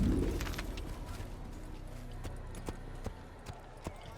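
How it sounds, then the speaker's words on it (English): Horse hooves clip-clop in the Assassin's Creed video game, with a louder rustle at the start, then a few spaced, crisp hoofbeats over soft background bird coos. "Horses!"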